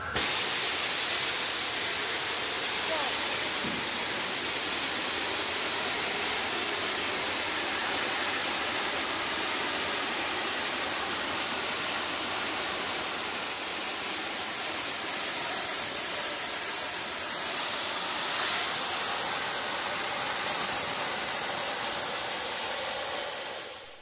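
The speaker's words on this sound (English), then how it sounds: "As we film 1225 backing up, she gives us a blast of steam, making it appear to be foggy." Steam locomotive 1225 lets off a long, loud, steady hiss of steam while backing up. The broad roar fills the whole stretch without a break and has no voices over it.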